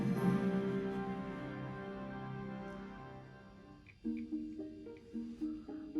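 The Pangea Software game Bugdom plays on an iMac G3: an intro jingle rings out as a sustained, fading synth chord, then gives way to bouncy music with short, stepping notes.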